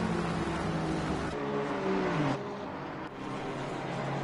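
Race cars in Assetto Corsa Competizione at Monza sweep past with a steady, loud engine drone that drops in pitch as one car passes, followed by quieter running engine noise.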